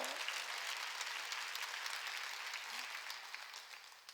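A church congregation clapping together during a Sunday worship service, dense continuous applause filling the room evenly and tapering slightly toward the end.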